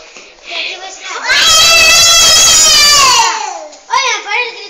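A child screams loudly and steadily for about two seconds in the middle of a group dance routine, with high-pitched talk and other children's voices before and after.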